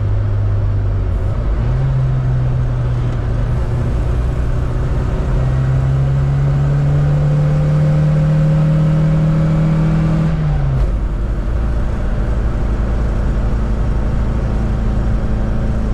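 A 1981 Mini 1000 on a test drive, with its small engine droning loudly from inside the car and the pitch rising steadily as it accelerates, then dropping sharply after a gear change.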